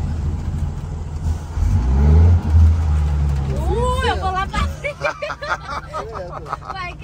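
A new FH truck's engine revs hard and close: a loud low rumble swells, then climbs into rising, pulsing whines that repeat in quick succession.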